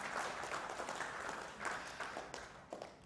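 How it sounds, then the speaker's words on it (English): A conference audience at a web talk applauds in a faint, distant burst of scattered claps that carries on throughout and tapers slightly toward the end. "can I get a round of applause?"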